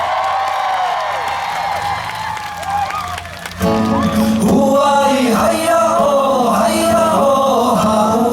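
Concert crowd at Taiwan's Pasiwali Festival during a set: after a quieter stretch with music, loud applause and screaming erupt around the midpoint and carry on densely to the end over the band.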